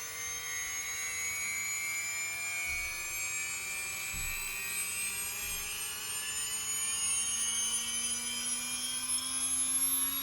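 A LOSI Promoto-MX RC motorcycle's flywheel spins up with a layered electric whine that climbs steadily in pitch, close and continuous for about ten seconds, with a few soft low thumps near the start.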